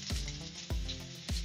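Chopped onion and tomato tipped into hot oil in a pan, sizzling sharply in three quick bursts that fade between, with no talk.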